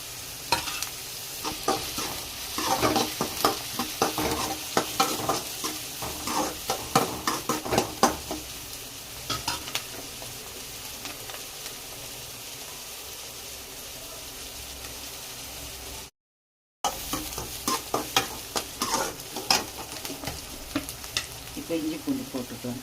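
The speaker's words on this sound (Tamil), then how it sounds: "வெங்காயம் வதங்கிட்டோம்ப்பா." Onions sauté in a hot pan under a constant sizzle. A spatula stirs them in frequent clattering scrapes, busier early on, then again after a brief gap, close and clear.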